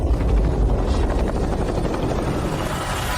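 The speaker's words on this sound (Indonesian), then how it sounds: "Helikopter hanya bisa mendarat di sini." A helicopter's rotor and engine drone loud and steady near a landing spot in the mountains, with no voices over it.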